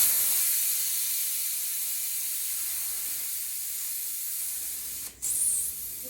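A steady, loud hiss of air escaping from a bicycle tire valve runs continuously, with a brief sharp interruption near the end before the hiss resumes.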